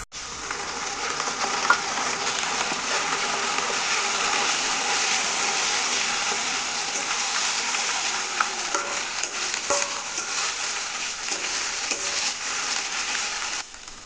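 Browned onions frying in a pan as ginger-garlic paste and chili paste are poured in for chilli chicken, a close, steady loud sizzle with stirring scrapes throughout, no voices.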